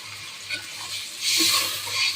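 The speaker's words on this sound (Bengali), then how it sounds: "এখন পানি দিয়ে দিচ্ছি একটু।" Water poured into a hot frying pan of fried garlic and onions, a rushing hiss that swells midway and stays loud with a steady low hum beneath.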